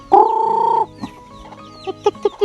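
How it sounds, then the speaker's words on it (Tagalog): A chicken lets out one long, loud squawk, followed by several short, sharp clucks spaced out at close range. "Dami manok ito."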